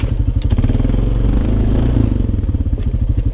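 A 2003 Honda Foreman 450 four-wheeler idles close by, its engine giving a loud, steady, throbbing low putter with a faint rattle.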